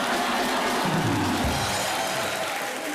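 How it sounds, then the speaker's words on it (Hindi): Studio audience on a comedy talk show applauds loudly, a dense steady wash of clapping and crowd noise filling the whole stretch with a faint low murmur underneath. "जोरदार तालियां।"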